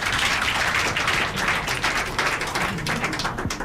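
Audience applause in a studio at a Nigerian call-in programme, a dense, continuous patter of many hands clapping at steady loudness with no pauses.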